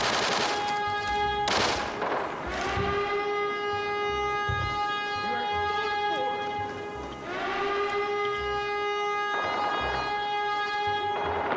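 Gunfire from a sniper shooter video game using the SJ16 sniper rifle: a few sharp, widely spaced shots ring out over a loud, sustained siren-like wailing tone that rises and falls throughout.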